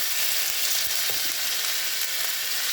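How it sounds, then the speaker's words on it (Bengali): Spice paste frying in a pan gives a steady, close sizzle with a few faint utensil scrapes and no talk. "মশলাটাকে সুন্দর করে কষাবো।"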